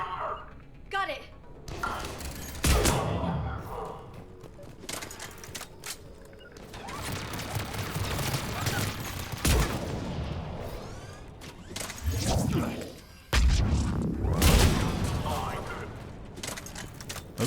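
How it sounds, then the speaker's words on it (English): Turret gunfire in Mass Effect 3, bursts of loud sharp shots and booms that come and go in several clusters, mixed with game noise and voices talking. "Those damn turrets are brutal."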